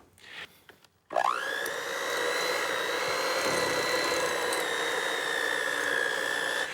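Electric hand mixer beating Philadelphia cream cheese with sugar in a bowl: after a few clicks it whirs up to a steady, loud, high motor whine that holds unchanged to the end.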